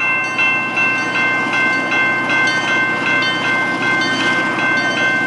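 A Canadian-built CN EMD GP9 locomotive hauls a short local train past a railroad crossing at St Lambert, Quebec, producing a loud, close, continuous rumble with steady tonal ringing throughout.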